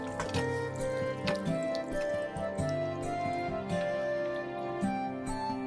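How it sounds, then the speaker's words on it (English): Creamy sauce pours over a penne pasta bake with vegetables and halloumi cheese, a soft wet dripping and trickling close by, with small clinks of a pan or dish over a steady low background hum. "all this lovely creamy sauce is going to be poured over it"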